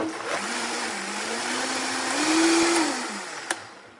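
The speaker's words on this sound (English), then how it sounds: "I'll probably mute this part because the Vitamix is super loud" A powerful Vitamix blender roars steadily, its motor pitch climbing as it speeds up, then dropping back before a sharp clunk near the end.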